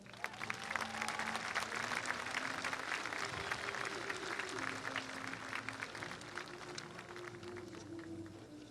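A graduation audience at a high school ceremony claps in sustained, dense applause that fills the hall, with a voice briefly audible beneath the clapping.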